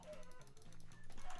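A chicken clucks in a video game, several short, faint, rhythmic clucks in quick succession with a low background murmur.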